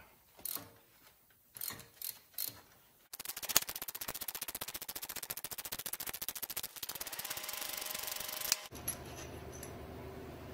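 A Time Sert 2200 thread repair tool is cranked into an aluminum Toyota 2.4L engine block. A few separate clicks give way to several seconds of close, rapid, steady ratcheting clatter that stops abruptly.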